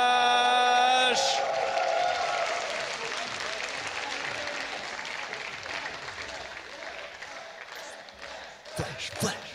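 A crowd at a StarCraft player-intro event cheers and applauds loudly for the player Flash, a dense roar of clapping that starts after a brief musical tone, then swells and surges again near the end.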